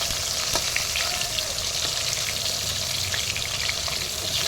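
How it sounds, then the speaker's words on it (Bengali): Eggplant frying in hot oil for khichuri sides, a loud, dense, continuous sizzle close by with faint scraping clicks as the slices are turned over. "চলো দেখি বেগুনটা এবার ওলটাই"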